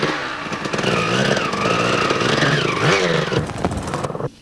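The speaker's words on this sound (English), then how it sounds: "He was riding a Suzuki 250." Suzuki 250 enduro motorcycle engine at a 1998 Welsh enduro event, revving loud and steady with rising and falling pitch for about four seconds before cutting off abruptly.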